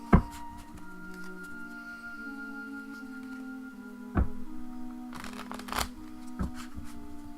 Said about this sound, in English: It's hard to shuffle these cards.